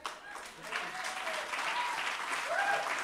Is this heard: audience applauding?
yes